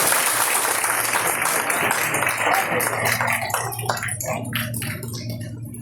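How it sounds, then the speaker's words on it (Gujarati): Audience applause at a student felicitation ceremony in Junagadh, a loud dense crowd clapping that fills the room, then thins into scattered individual claps as it fades. "એક વખત જોરદાર તાળીના ગરડાથી ફરીથી બોલાવો"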